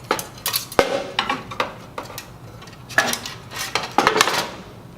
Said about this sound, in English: Lift the bottom platen, flip upside down, and set back onto the grill assembly.